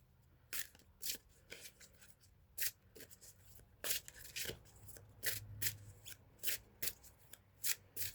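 A deck of dragon-themed cards being shuffled alone and close up, with a steady series of crisp riffling bursts repeating roughly every half second.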